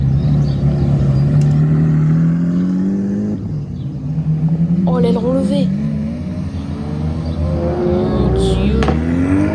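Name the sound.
2022 Lamborghini Countach accelerating away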